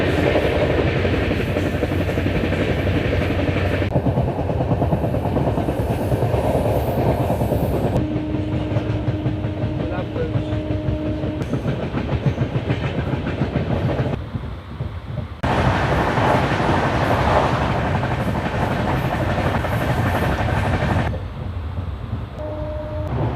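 Humsafar Express train rolling on the rails at night near Bhopal Junction, a continuous loud rumble with rhythmic clickety-clack of wheels over joints and shifting roar as the carriage passes different track sections.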